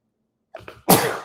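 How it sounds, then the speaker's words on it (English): A single sneeze, with two short intakes of breath followed by a loud, sharp burst that trails off, close to the mic and on its own. "Sneeze is coming."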